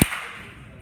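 A single sharp clap from an audience at a startup pitch event, one loud crack at the very start followed by a short fading room echo.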